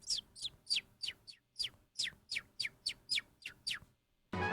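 A person imitates a bird by chirping with the mouth, making about a dozen quick, high, falling chirps in a fast, even run. The chirps are faint and close, and a short burst of noise follows.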